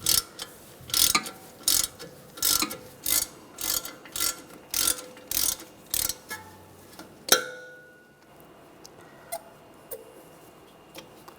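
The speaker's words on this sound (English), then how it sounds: "Using a 7mm hex socket, loosen up the caliper slide pins." A ratchet with a 7mm hex socket loosens the front brake caliper slide pins on a 2009-2013 BMW 328i xDrive, a close run of about a dozen rhythmic clicking bursts, then a sharp metallic clank and near silence.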